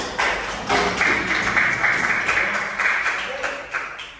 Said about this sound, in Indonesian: Silakan kita semua berikan tepuk tangan.